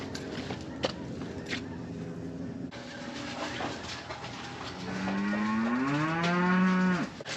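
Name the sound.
cows mooing at barn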